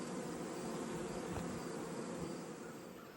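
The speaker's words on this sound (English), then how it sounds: "there's a lot of bees in the box" A dense swarm of honeybees packed inside a hive box, producing a steady, loud, continuous buzzing drone heard up close with no voices.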